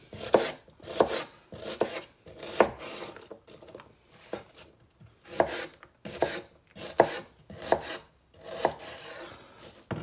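A kitchen knife chops fresh organic onion quarters on a cutting board, about a dozen crisp, evenly spaced cuts at a steady rhythm, close and distinct with no talking.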